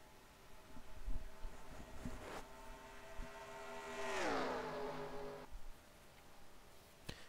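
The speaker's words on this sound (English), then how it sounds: "You hear Leroy Jones' car up there." A race car engine in an SCRL IROC racing video game at Talladega whines past at high revs, its pitch sweeping down as it passes, faint wind noise underneath.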